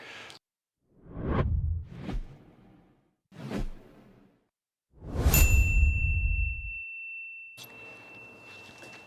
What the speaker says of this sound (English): that wind chime in the back is gonna get annoying